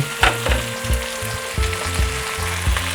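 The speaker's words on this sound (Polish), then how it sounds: "jak smażyliśmy tutaj cebulkę naszą z marchewką" Onion and carrot sizzle steadily in a frying pan for a bean-and-potato soup, with potatoes being added; close, continuous frying crackle with a few soft stirring knocks and no talk.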